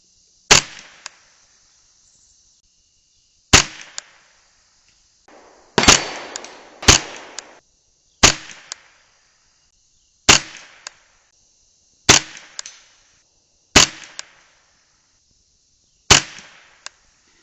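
Eight sharp .22 LR rifle shots with Lapua Center X ammunition, fired one at a time at irregular intervals of roughly two seconds at an outdoor range, each a loud crack with a brief decay and no talking.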